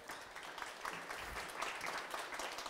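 Brief, faint patter of audience applause at an evening housing-debate event, a soft even wash of clapping with no distinct individual claps.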